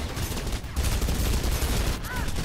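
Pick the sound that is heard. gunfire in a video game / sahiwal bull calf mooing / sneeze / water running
gunfire in a video game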